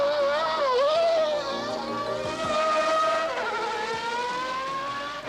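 Honda Marlboro McLaren racing cars cornering on a circuit, their high-pitched engines wailing and shifting in pitch as they sweep past, loud and continuous with no talk.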